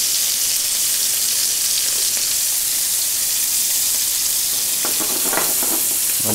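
Shallots and sliced chicory sauté in a pan in a restaurant kitchen, a loud, continuous sizzle with brief stirring clatter near the end.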